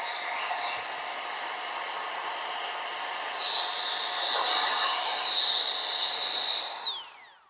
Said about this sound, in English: Super powerful pump.